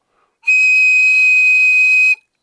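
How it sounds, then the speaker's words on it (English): A 100-decibel self-defense whistle is blown once, a piercing, steady high-pitched shriek held for nearly two seconds, very loud and close, starting and stopping abruptly with silence around it. "they are actually a 100 decibel whistle"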